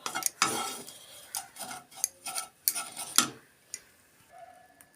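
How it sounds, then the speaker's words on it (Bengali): Grated coconut stirred while roasting in a pan, a spatula scraping and tapping the metal in irregular strokes with a soft sizzle underneath, close and clear without talk. "নারকেলটাকে একটু ভাজা ভাজা করে নেব"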